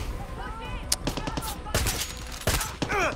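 Sharp bursts of Far Cry 6 gunfire pop in quick clusters against a busy, noisy battle background.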